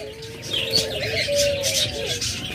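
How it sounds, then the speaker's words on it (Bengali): A pair of diamond doves kept in a cage at a bird sale give soft, repeated cooing calls, close and moderately loud against a light noisy background. "এরপর এখানে আরেকটা শীতল ঘুঘু জোড়া রয়েছে"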